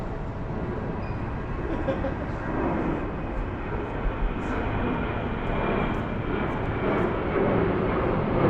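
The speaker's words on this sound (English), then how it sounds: "Look at that plane up there." A fixed-wing airplane passes overhead near Cannington station, a steady broadband engine roar with a slight swell toward the end, heard amid outdoor background noise.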